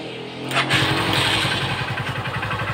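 A Honda TMX Supremo 150cc motorcycle with a stalling, misfiring fault catches and starts, then settles into a steady, close, chugging idle.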